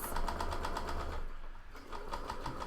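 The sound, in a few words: sewing machine stitching a fabric face mask seam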